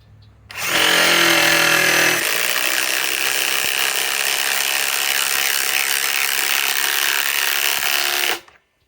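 A Ryobi PSBIW25 compact impact wrench running on an 8 amp 21700 cell battery starts with a loud hammering burst, then keeps up a sustained, close mechanical whir for several seconds before stopping abruptly.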